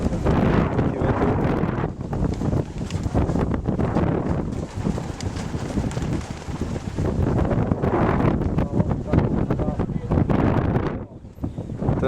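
Strong wind buffets the microphone at a pigeon race release, loud gusty roaring that rises and falls for several seconds, with someone talking under the wind noise.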